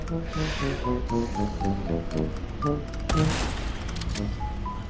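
A snake is killed in Resident Evil 4: one sudden, loud, wet burst strikes midway over steady tonal game music and ambience, then fades back into the background score.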